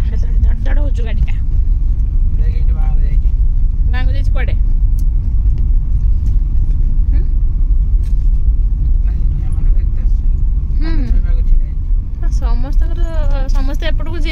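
A car jolts along a rough, bumpy village road toward an airstrip in Rasgovindpur, Mayurbhanj, its steady low engine rumble and rattle running throughout, close and loud, while people talk over it.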